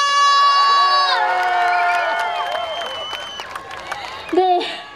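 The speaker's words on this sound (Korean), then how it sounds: "자, 한번 더. 다 같이 박수와 함성!" A summer beach festival crowd at Songho Beach in Haenam bursts into loud cheering, shrill whoops and clapping that swell at first and then gradually fade, ending with a brief shout.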